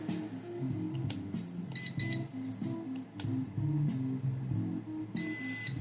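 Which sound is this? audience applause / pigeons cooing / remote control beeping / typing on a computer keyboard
remote control beeping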